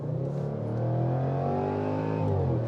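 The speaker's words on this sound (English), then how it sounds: "It's got to be the best soundtrack of any SUV on the market. And it's so lively, it loves to be revved." A Jaguar F-Pace SVR's supercharged V8 revs with a deep, throaty drone that climbs and settles, sustained and loud throughout, heard from inside or near the SUV with no talk.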